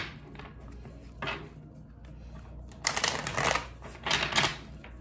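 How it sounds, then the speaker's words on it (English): A deck of oracle cards is shuffled by hand, with soft riffles at first, then two louder, rapid bursts of flapping card edges close by. "I'm gonna shuffle."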